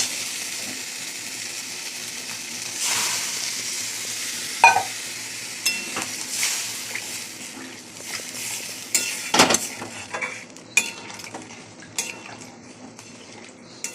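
Onions and paneer are stirred and sautéed in a pan, with a spatula scraping and clinking against the metal over a soft sizzle, in irregular close scrapes and taps.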